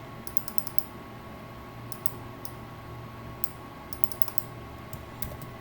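Keyboard shortcuts typed in a GNOME Terminal on GNU/Linux: short bursts of crisp key clicks in quick clusters over a steady low room hum, fairly faint and close, with no talking.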